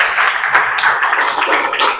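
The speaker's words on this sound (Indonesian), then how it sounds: "kasih tepuk tangan buat JD Almis" Brief burst of clapping from a school audience during a vocational teaching exam presentation, steady and moderately close for about two seconds.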